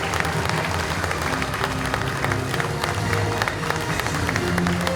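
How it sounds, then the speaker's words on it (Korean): Loud, close applause fills the hall at a Democratic Party of Korea convention, many hands clapping steadily alongside crowd murmur throughout. "큰 박수 부탁드립니다"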